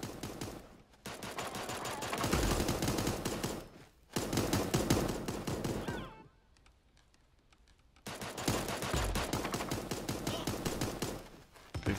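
Pistol gunfire in the cartoon battle royale game Super Animal Royale, long dense volleys of rapid shots, loud and continuous, broken by a two-second lull before the firing resumes.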